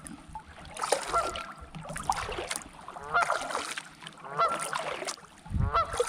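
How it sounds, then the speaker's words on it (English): Several loud goose honks ring out in bursts close by, with splashing water and faint paddle sounds between the calls, while paddling around George's Creek Island on Prettyboy Reservoir. "I'm sure that goose is going to be happy once we're on our way."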